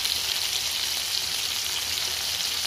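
Green chillies and salt frying steadily in a pan, a dense, even sizzle that runs throughout at close range with no talking.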